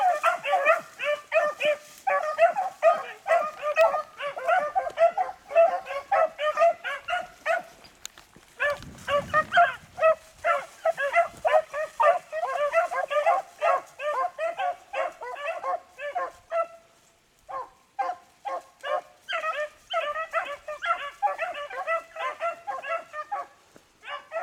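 Beagles barking in quick, repeated bursts, joined by high yips and whimpering; the yapping runs almost nonstop with a brief lull in the middle, close and loud.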